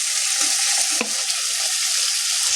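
Fried potatoes are sautéed with spices over medium heat for a Bengali golda chingri kalia, producing a steady close sizzle with a single clinking stir of a utensil partway through.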